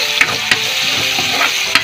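Onions stirred in a hot frying pan for kimchi chicken, a steady sizzle broken by a few scraping strokes of the spoon, close and fairly loud.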